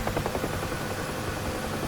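Helicopter in a flight simulator game, a continuous dense rotor and engine drone with a fast rhythmic beat, steady and fairly loud throughout with no speech.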